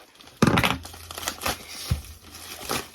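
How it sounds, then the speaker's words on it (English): Close crinkling and tearing of baseball card packaging being cut open with scissors, with sharp snips and rustles in short irregular bursts. "Cutting with scissors, sharp implements."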